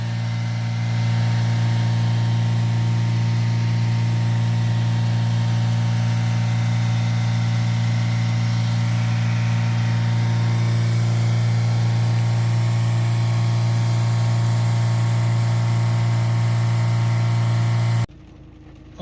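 A Ford Transit van engine held at steady raised revs with a blocked DPF, a loud constant droning hum that runs unbroken for most of the time before cutting off abruptly near the end.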